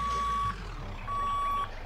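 Reversing beeps from a truck in the Roblox video game: two long, steady electronic tones, loud and close, separated by a short gap over a low engine hum.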